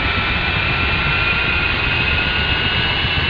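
Ka-50 Black Shark attack helicopter turbine spooling up toward idle in the DCS flight simulator, a steady loud whining roar with a constant high tone and no pauses.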